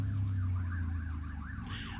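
An ambulance siren wails somewhere beyond a beach in the Polish countryside on a May afternoon, its rising and falling tone steady and moderately distant over a constant low rumble of wind or traffic.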